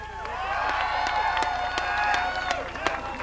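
A large crowd at an anti-war rally on Boston Common, a steady wash of cheering and clapping with overlapping voices shouting, dense and continuous.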